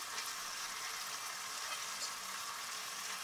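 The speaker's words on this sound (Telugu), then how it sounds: "ఇప్పుడు మనము మ్యారినేట్ చేసుకునే చికెన్ ముక్కల్ని ఇందులో వేసుకుందాం" Marinated chicken pieces sizzle steadily in a hot pan for a Kerala-style chicken masala, a close, even hiss of frying oil with no pauses and no voices.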